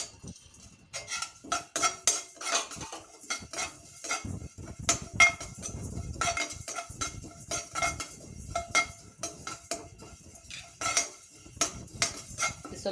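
A spatula scrapes and clinks steadily against a pan as fenugreek, cumin and coriander seeds roast for puliyogare paste. The stirring is close and rhythmic, with no talking.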